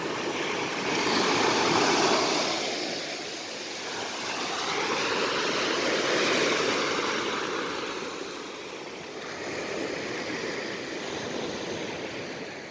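Sea waves rolling onto the beach at Wa Ko, Prachuap Khiri Khan, on an overcast day: a steady, broad wash of surf swelling and receding in slow surges, close and fairly loud, with no talking.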